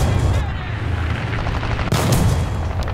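Tank cannon and machine-gun fire in War Thunder ground realistic battle with the T-35 heavy tank, a steady rumbling low boom of combat with a sharp blast near two seconds, talk over it.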